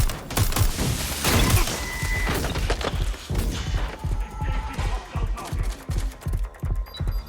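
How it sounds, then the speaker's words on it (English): Rapid bursts of gunfire crackle loudly in the video game Watch Dogs: Legion, first dense and continuous, then breaking into rhythmic repeated volleys. "Got gunfire!"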